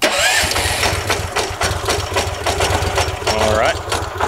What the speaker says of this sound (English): So we're gonna go ahead and start it up here.